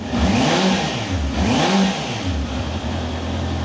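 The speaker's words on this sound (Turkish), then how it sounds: "Kerem motorun sesi bu şekilde abi." A Honda CBR650R inline four-cylinder motorcycle engine revs up and down in two swells, then settles into a steady rumble, close and fairly loud.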